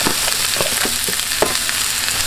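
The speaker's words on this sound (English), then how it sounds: "Then we're just going to throw our peppers and hatch green chili and all that up in here." Peppers and hatch green chili sizzle loudly on a Blackstone griddle, a dense continuous crackling hiss with scattered sharper pops and light scrapes, close and steady throughout.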